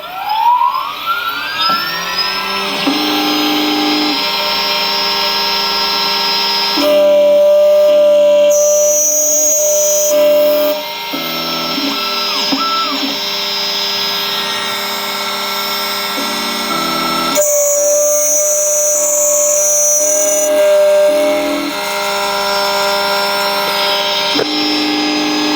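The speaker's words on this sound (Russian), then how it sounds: "Происходит калибровка станка, после чего нарезка." A key cutting machine cuts a new key for a Yamaha Majesty scooter. A loud, steady motor whine runs throughout, broken by bursts of rhythmic grinding and chattering as the cutter works. The machine is close, with no talking.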